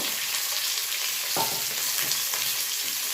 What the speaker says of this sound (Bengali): ক্যাপসিকাম টমেটো পেঁয়াজগুলো সামান্য একটু আমি ভেজে নেব।